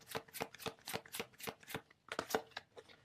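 Tarot cards being shuffled in the hands, a steady run of about a dozen crisp riffling snaps, close and fairly loud with no talk, ending in a slightly busier flurry as cards are drawn.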